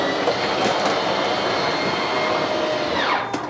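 Slide-out motor on a 2022 Flagstaff E-PRO 20BHS travel trailer, a steady loud mechanical whir and rumble that holds evenly for several seconds and then winds down near the end, with no talking.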